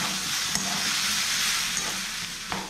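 A spiced potato mixture with salt, turmeric and ginger-garlic-chilli paste is stirred in a hot pan. A steady frying sizzle runs throughout, with a few faint scrapes of the spoon.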